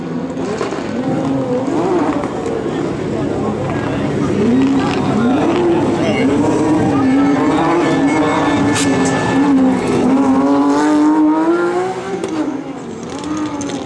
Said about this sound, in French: on va vous laisser profiter du bruit de la Porsche qui revient dans la portion de terre devant nous